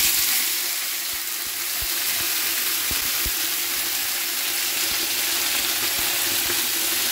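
Chopped tomatoes frying in a pan for a tomato chutney, with a broad, steady sizzle throughout and a few soft knocks of the spoon against the pan, close and fairly loud, no talking.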